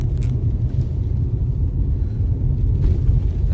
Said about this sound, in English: That's a good gust right there.